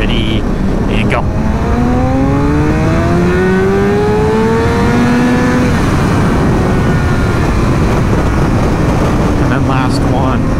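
Motorcycle accelerating hard in second gear from 40 to 100, engine pitch climbing steadily as it revs up over several seconds, then easing off, loud and continuous throughout.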